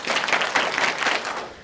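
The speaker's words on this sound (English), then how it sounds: "Give me 5 claps." Audience clapping in unison, a short burst of about five sharp claps close together, fairly loud and without any talk.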